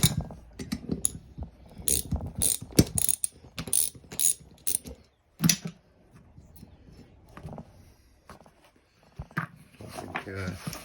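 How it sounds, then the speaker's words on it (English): A 10mm ratchet works at a seized rear brake caliper on a two-wheel-drive Sierra Cosworth, giving quick bursts of sharp metallic clicking with pauses between strokes, close by, while someone talks at times. "Right, 10mm ratchets out."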